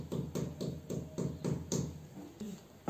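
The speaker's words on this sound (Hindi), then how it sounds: "चालू हो गई है मेरी सिस्टर कील ठोकने के लिए" A tin hammer striking a nail, repeated blunt knocks in a steady rhythm of about six close, moderately loud blows, with a short pause near the end before a final hit.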